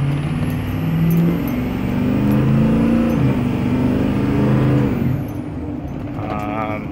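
A Ford F250 Super Duty pickup truck on a road test hums along with a steady, loud engine drone whose pitch rises and shifts, then eases off and drops toward the end, heard from inside the cab.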